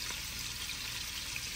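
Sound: food frying in a pan

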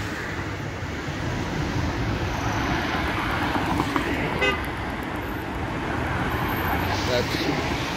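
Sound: city car traffic with honking in Iași

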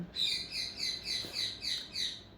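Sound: pet parrot calling

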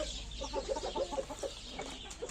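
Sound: chickens clucking on a farm

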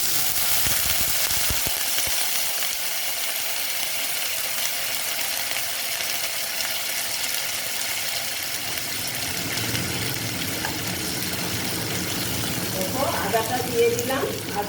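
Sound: vegetable stalks frying in a pan

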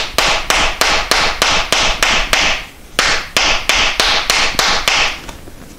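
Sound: hammering metal into shape

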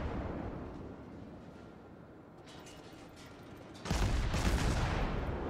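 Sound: naval gunfire from the cruiser Nürnberg in World of Warships video game

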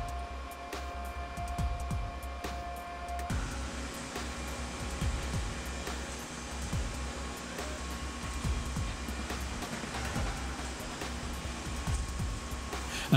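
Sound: racing team factory machine shop

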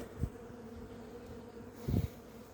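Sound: honeybees buzzing around a hive being moved

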